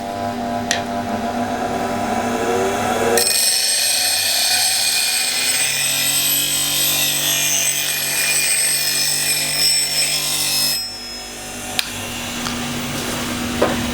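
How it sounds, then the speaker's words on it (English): A bench grinder touches up the edge of a woodturning tool. The motor hum carries through, and a harsh, steady grinding whine fills about eight seconds in the middle before dropping back to the idle hum, with no talking. "if you feel the tool could be cutting slightly better, you go to the grinder"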